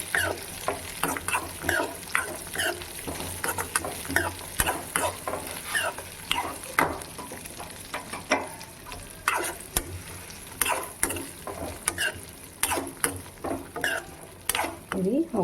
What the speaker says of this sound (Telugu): తీసుకొని ఇందులోకి సేమియా కాస్త వేయించుకుంటాము